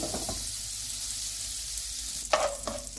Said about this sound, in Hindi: और ये सारे ड्राई फ्रूट्स लेकर इसमें मैं रोस्ट कर लूँगी।